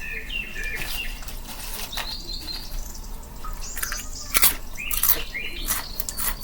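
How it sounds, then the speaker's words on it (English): A long-tailed bird calls outdoors, bright chirps and whistled notes repeating irregularly over a low background hiss and faint insect-like noise. "What kind of bird is that?"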